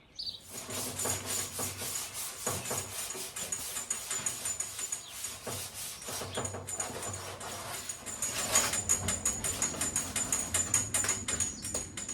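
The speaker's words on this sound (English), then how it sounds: "I'm sanding down with 220 right now." Steady rapid scratchy rubbing of 220-grit sandpaper by hand on a 1972 VW Super Beetle, continuous back-and-forth strokes, close up and moderately quiet.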